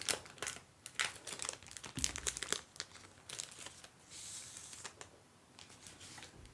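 Small plastic bags crinkle and rustle close up in bursts of handling, with sharp crackly peaks between softer rustling.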